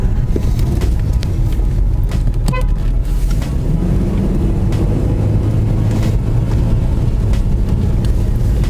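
Close, loud engine of a BMW E46 320Ci coupe running at low revs, a steady rumbling drone with a short cluster of sharp clicks early on and a brief rising tone midway.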